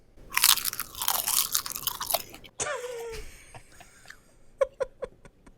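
Loud, close crunching and chewing of a crispy seaweed snack, followed by brief wet mouth sounds and a few sharp clicks.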